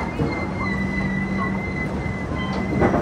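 Indian Railways Garib Rath express with new LHB coaches running in Maharashtra, a steady continuous rumble with a sustained wheel squeal tone, loud and close throughout with a brief swell of clatter near the end.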